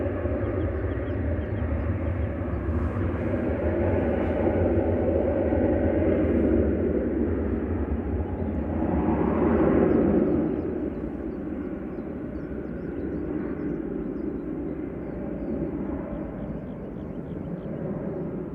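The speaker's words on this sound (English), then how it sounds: "KLM 737-800, PHBXB, departing back to Amsterdam" KLM Boeing 737-800 jet departing Manchester Airport for Amsterdam: a steady broadband engine roar rumbling throughout, swelling briefly in the middle, heard from a distance.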